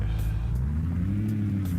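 Cars driving on a road in a video game, passing through taiga woods toward a dirt road; a steady mid-low engine drone that rises slightly in pitch, heard alone and fairly close.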